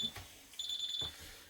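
Electronic beeps from a Servis slimline washing machine, a short high tone followed by a longer sustained beep, faint and close, with a couple of soft knocks.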